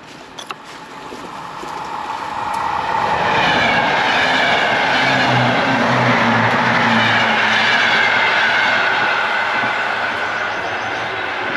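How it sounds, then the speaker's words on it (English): A train pulling into a station, its broad rumble and hiss swelling from moderate to loud and holding steady for about ten seconds, no talk. "There the train is."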